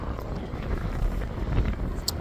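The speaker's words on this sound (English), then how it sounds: "But it's real windy." Strong wind ahead of an incoming rain storm roars steadily and loudly outdoors, buffeting the microphone with low rumbling gusts.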